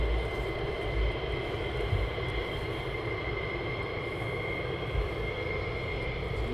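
A military jet taxis at RAF Lakenheath, heard as a steady, fairly distant engine rumble with a faint whine that holds evenly throughout, with no voices.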